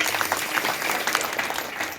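Steady, dense applause from an audience at a kirtan for the singers, many hands clapping continuously at an even volume, with faint voices in the crowd.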